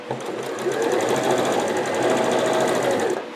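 A Janome New Home 49360 sewing machine runs steadily for a few seconds with a fast, even mechanical whir and needle chatter, close and loud, with no talking.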